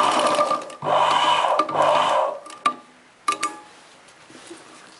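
A sewing machine stitches a chudidar top in two loud whirring runs, then stops, followed by a few sharp clicks and soft handling of cloth; no talk.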